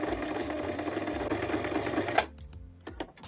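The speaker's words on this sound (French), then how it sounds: "Donc, il faut le coudre." A sewing machine stitches white fabric onto sleeve ends in a fast, even mechanical patter for about two seconds, then stops, leaving a few faint clicks and handling sounds.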